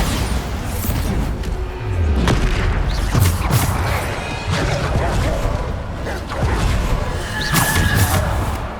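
Bombarda explosion spell cast in the Hogwarts Legacy video game during a combat trial, with booming blasts, crashes and whooshes layered over busy in-game battle noise, loud and continuous, with a voice speaking over it.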